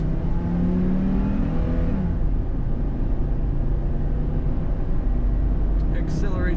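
2006 Hummer H3 with automatic transmission accelerating: a loud, steady engine drone that rises in pitch during the first two seconds, then settles into a continuous hum from inside the cabin.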